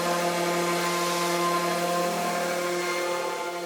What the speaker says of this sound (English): I use my sander to make them perfectly smooth and flush